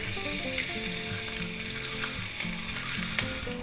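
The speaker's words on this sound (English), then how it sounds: "we're going to brown our nice smoked ham on each side" Smoked ham browns in a frying pan, giving off a steady, close sizzle that holds throughout with no one speaking.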